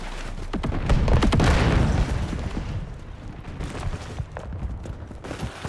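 A grenade explodes in Modern Warfare multiplayer: a heavy, booming blast swells and rolls out, then scattered gunfire pops and cracks continue at moderate distance.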